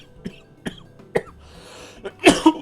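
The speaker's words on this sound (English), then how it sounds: "As I cough, as I trip over those words and cough" A streamer coughs several times in short, separate bursts, ending with a louder throat-clearing cough close to the microphone.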